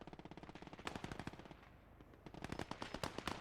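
MG42 machine guns firing in the World War II strategy game Gates of Hell, rapid sustained bursts with a brief lull before the fire resumes, fairly faint and distant, with no voices.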